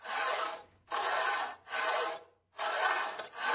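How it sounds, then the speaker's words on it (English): Wooden ceiling boards on a first floor are sawn by hand in the Steins;Gate game, giving four or five even, rasping back-and-forth strokes at a quiet, steady rhythm with short gaps between them. "Right now, I'm sawing away at the ceiling boards on the first floor."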